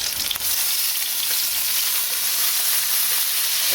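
Chorizo sausage sizzling hard in a hot pan as lemon juice goes in to deglaze, a loud, steady hiss of frying that fills the whole stretch with no talk.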